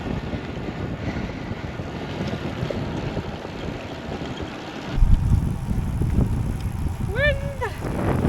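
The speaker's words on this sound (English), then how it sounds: "Wind! Summertime cycling, but a bit windy." Strong wind buffets the microphone while cycling along a beach in summer, a rough continuous roar that surges louder midway, with brief faint voice sounds near the end.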